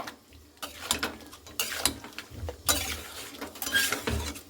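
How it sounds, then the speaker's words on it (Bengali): A spoon scrapes and clinks against a pot as onions and spices are stirred for a mutton curry, in irregular close strokes with quiet gaps between them. "খুব ভালো করে দেখুন এখানে আমি নাড়াচাড়া করে নিচ্ছি পেঁয়াজ আর মশলার সঙ্গে"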